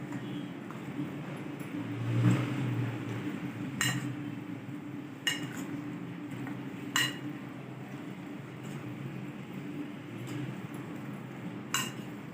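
Beef masala boti marinade with fried onions being stirred in a bowl, giving soft clinks and a few sharp utensil taps against the bowl's side, spaced every couple of seconds over a steady low background hum.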